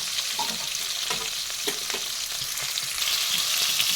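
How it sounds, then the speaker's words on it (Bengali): Pointed gourd (potol) pieces fry in a pan while being stirred, producing a steady, close sizzle broken by light scraping and stirring clicks throughout, with no talking. "পটলগুলোকে একটু ভেজে নিচ্ছি"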